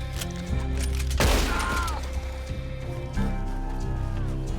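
Gunfire in the Red Dead Redemption 2 Online video game: a sharp burst of shots lands near the middle over a continuous game soundtrack, with a second louder hit later.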